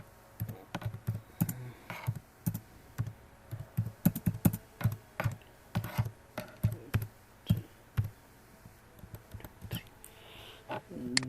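A password is typed on a computer keyboard during a WHMCS install, as a steady run of crisp, close keystroke clicks in uneven bursts with brief pauses, quiet and alone without speech.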